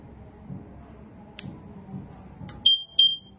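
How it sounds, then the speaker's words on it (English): Two short, high electronic confirmation beeps from an MSA G1 SCBA air pack pairing with a radio identifier tag, sounding close and clear after some faint handling noise. "Listen for the audible confirmation."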